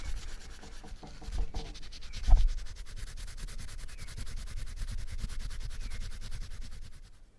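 A cloth rubs and polishes grime off the metal of a Jaguar XJ 3.2 Sport X300 remote key fob, making a soft, continuous scrubbing with a few brief knocks, close and quiet.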